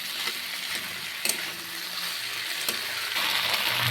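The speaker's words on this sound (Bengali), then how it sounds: "লতিটাকে আমি হালকা করে ভেজে নিয়েছি।" Taro stolons (kochur loti) fry lightly in a pan with jackfruit seeds, a steady moderate sizzle with a few clicking stirs and scrapes, growing slightly louder toward the end; no voices.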